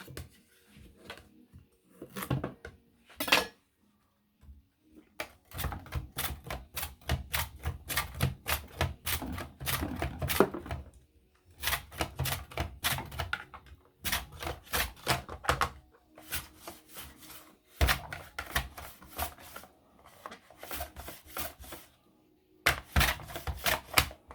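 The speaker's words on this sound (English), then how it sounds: "We're going to cut that one carrot." A carrot is pushed over a mandolin slicer in rapid runs of sharp, rhythmic clicking cuts separated by short pauses, close and crisp with no talking.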